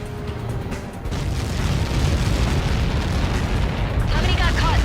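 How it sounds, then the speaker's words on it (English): A missile strike in the combat flight game Ace Combat 7 detonates as a sustained, loud rumbling blast that swells and roars on for several seconds, with a broad noisy texture and no speech over it. "How many got caught in that explosion?"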